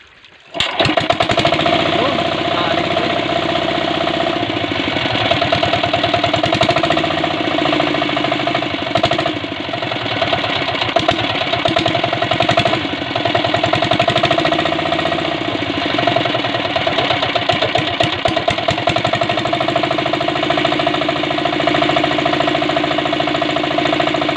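The engine of a sprayer machine for spraying chili plants starts up and runs steadily at a close, loud, throbbing idle with slight fluctuations, and brief talk is heard over it.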